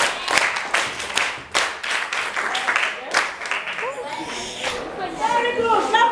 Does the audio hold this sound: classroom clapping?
yes